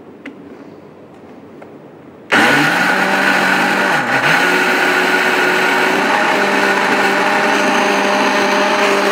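An electric mixer whirs on abruptly after a quiet start, running loud and steady as it blends vegetable oil with the other ingredients, with a brief dip in pitch midway.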